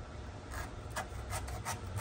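A Swiss army knife blade saws at a piece of wood, making soft, quiet rasping strokes in a rhythmic back-and-forth pattern.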